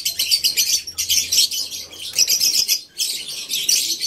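African lovebirds chirping close by in rapid, bright bursts of high squeaky tweets separated by short gaps, loud and busy without talk.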